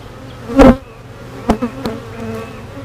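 Honeybees at an opened hive during a swarm-check inspection, a low steady hum with a few brief louder buzzes passing close, no speech.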